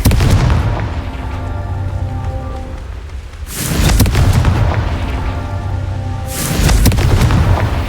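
Confringo explosion spell in the Hogwarts Legacy video game, two loud booming blasts a few seconds apart over a dense, rain-like crackling rumble.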